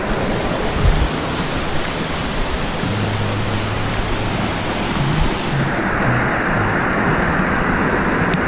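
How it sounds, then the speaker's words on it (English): River water flows through a community at Roaring River, producing a continuous loud, close rushing wash with no pauses. "So literally the river flows through the community."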